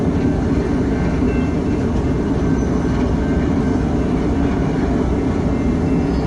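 A BNSF freight train rumbles steadily nearby on a freezing day in Minnesota, a continuous low heavy roll of railcars moving forward with faint clatter, no voices.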